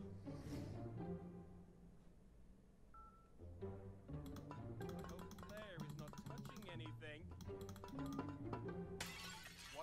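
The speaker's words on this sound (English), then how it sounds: "I looked away for 10 seconds and you already smashed it?" A vase smashes in the video game Dude, Stop: a bright burst of shattering and clinking shards, set among light electronic game tones and music with people talking over it.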